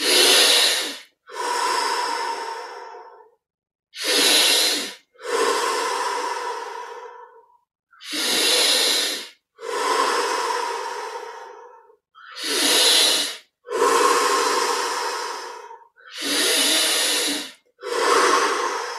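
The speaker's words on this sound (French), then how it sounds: "Et on approfondit l'inspire et l'expire." Deep, slow breaths during meditation, close and loud, with long airy inhales and exhales alternating in a steady rhythm, about eight cycles with brief pauses between them and no talking.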